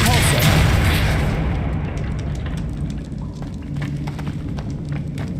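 A Depulso spell lands in Hogwarts Legacy with a loud, booming blast at the start that decays into a rumbling wash under steady game audio.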